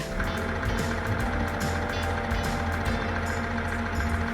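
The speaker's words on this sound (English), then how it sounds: "A dump truck is a huge vehicle with an open box bed" Dump truck reversing alarm beeping in a steady repeated rhythm over a loud, continuous diesel engine rumble, close by with no voices.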